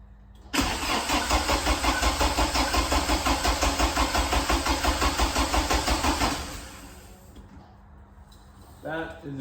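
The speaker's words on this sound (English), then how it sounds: "let's see if we've been scammed or if it actually turns over" An old carburetted Porsche engine cranks with a rapid rhythmic chugging, loud and close, for several seconds, then catches and settles into a lower idle, followed by a short burst of talking near the end.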